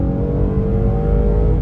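A 2020 Toyota Highlander pulls away under acceleration, its engine drone loud and steady from start to finish with a rising whir, alone and without voices.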